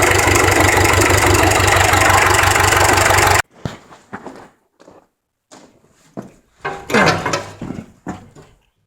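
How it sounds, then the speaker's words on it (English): A 1966 Deere tractor engine idles loudly and steadily at close range, then cuts off abruptly, leaving scattered knocks, footsteps and handling noises. "The engine sounds healthy."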